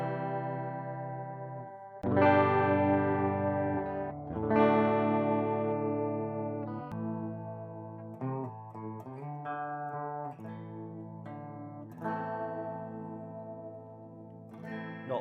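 Electric guitar chords played through a Sonicake chorus pedal with depth set around 75%, sustained shimmering strums that ring out and decay, then a run of shorter chord changes, with no talking.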